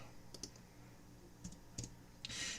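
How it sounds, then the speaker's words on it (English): Typing on a computer keyboard into a search bar: a few scattered clusters of sharp key clicks with pauses between them, close and fairly quiet, ending in a louder burst of clatter. "I'm typing things in the search bar"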